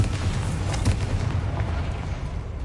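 A Confringo explosion spell bursts in Hogwarts Legacy, heard as a loud, continuous low rumble with a heavier boom near the one-second mark, alone with no talk.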